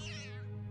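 A cat meows once in the video game Thimbleweed Park, a short drawn-out call that falls in pitch, clear and close over a low steady hum.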